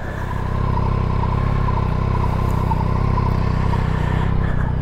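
A 2024 Yamaha Tracer 9 GT+ motorcycle with stock exhaust hums steadily on a wet road, a constant mid-pitched engine drone with wind rush, loud and close throughout with no talking.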